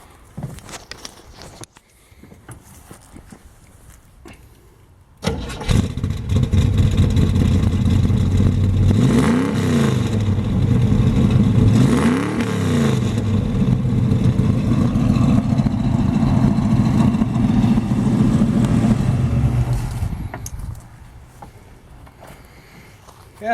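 A 1975 Chevrolet Camaro engine fires abruptly, blips its throttle twice, then settles into a steady, rumbling idle for about fifteen seconds before shutting off, recorded up close.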